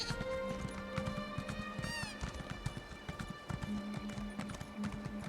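Horse mount galloping in Elder Scrolls Online, steady rapid hoof clip-clops with a brief whinny-like sweep, layered over game music and ambient effects.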